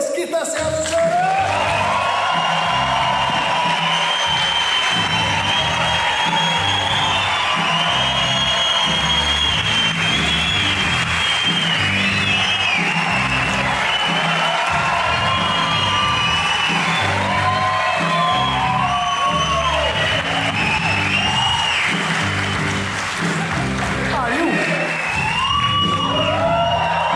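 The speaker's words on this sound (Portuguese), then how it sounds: "Eu quero uma salva de palmas muito grande para Otávio Mesquita, senhoras e senhores!" A studio audience at a comedy roast honoring Otávio Mesquita erupts in loud, sustained cheering with whoops and shrill wavering cries, a dense crowd roar that holds steady throughout.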